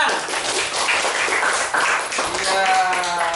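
A classroom of children claps their hands in a brief burst of scattered, overlapping claps, fairly close and loud, with voices mixed in.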